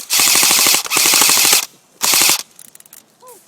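Airsoft guns fire on full auto at an outdoor airsoft field, three loud close bursts of rapid rattling shots with short gaps between them, followed by quieter scattered clicks and mechanical sounds.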